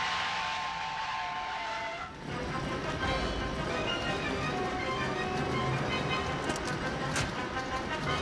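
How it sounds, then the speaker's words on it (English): A train in an animated series rumbles past loudly and continuously, with a whistle-like tone at the start that gives way to dense rattling rail noise and metallic clatter. "That train will blast right through it."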